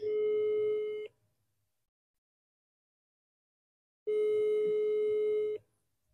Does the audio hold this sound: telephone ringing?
yes